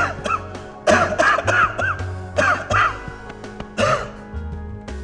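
Several sharp coughs and throat-clearing sounds come in quick repeated bursts, close and fairly loud, with a low steady background hum underneath.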